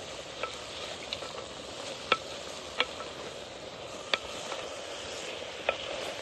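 Bitter gourd sabzi cooks in a thick clay pot over a low flame while being stirred, giving a soft, steady sizzle broken by a few sharp clicks and taps, with no talking.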